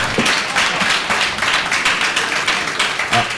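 An audience at a town hall discussion on higher education claps for a speaker, a dense, loud round of many hands with irregular sharper claps standing out, continuous throughout.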